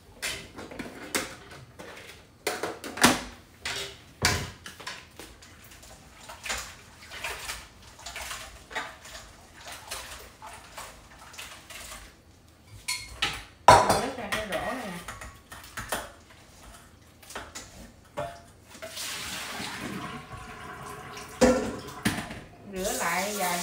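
Shrimp being rinsed under a running tap in a kitchen sink, with clattering of dishes and metal, water splashing and trickling throughout, alongside someone speaking at intervals.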